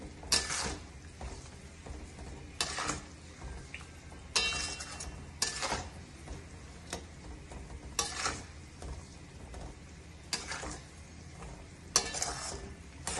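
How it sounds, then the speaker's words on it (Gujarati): A spoon stirs a mango vagharo mixture in a pan, giving soft, irregular scraping and scuffing strokes over a faint low sizzle, fairly quiet and close, with no talking. "જ્યાં સુધી ઘટ ના થાય ત્યાં સુધી હલાવતું રહેવું, જેથી કરી એ નીચે ચોટે નહીં."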